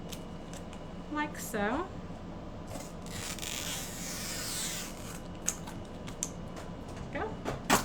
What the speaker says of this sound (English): And then we'll cut this one